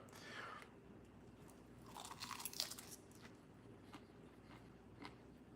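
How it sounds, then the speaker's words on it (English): Someone bites into and chews food close to the microphone during a live stream: crunchy bites, with a louder burst of crunching in the middle, over a steady low background hum. "How loud can you hear me chew?"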